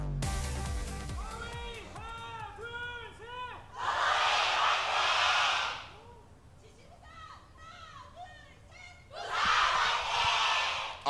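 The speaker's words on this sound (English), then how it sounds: "Busan just matched that cheer" Crowd cheering at an Overwatch esports match, with two loud bursts of roaring applause and cheers rising and fading, separated by stretches of voices and commentary talk.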